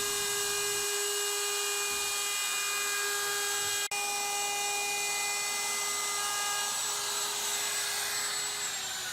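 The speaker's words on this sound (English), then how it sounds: "a nice chamfer bit would be a good edge treatment for this benchtop tool cabinet." A router fitted with a chamfer bit edges a plywood benchtop tool cabinet, giving a loud, steady high-pitched whine that runs unbroken apart from one brief click midway.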